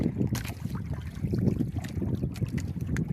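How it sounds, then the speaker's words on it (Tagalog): Rough, choppy sea with waves washing and churning steadily near the shore, a continuous noisy wash with gusts of wind buffeting through. "Yung dagat natin mga katemas maalon yung dagat natin, maalon."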